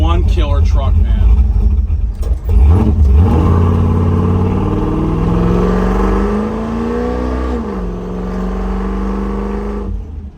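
A 1969 Chevrolet C10 truck engine accelerates hard from rolling speed, its loud rising drone climbing in pitch, dipping at a gear shift and climbing again, heard from inside the cab with someone talking over it.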